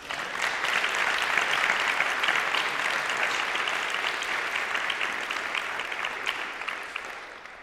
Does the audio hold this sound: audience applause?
yes